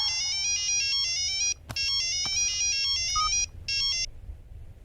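A bright electronic ringtone melody plays loudly in repeating bursts, with two brief gaps and a couple of sharp clicks partway through.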